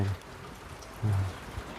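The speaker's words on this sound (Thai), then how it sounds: "ฝนตกอีกแล้ว" Steady rain falls outdoors as a constant broadband hiss, with a couple of brief low thumps over the patter and no talking.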